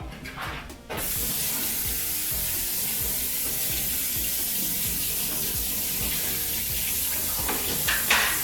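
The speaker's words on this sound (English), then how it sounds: "Let me go ahead and rinse this off." Running water from a kitchen faucet pours steadily over a cutting board being rinsed in a sink, a continuous splashing wash that starts abruptly after a brief moment and holds at an even, close level to the end.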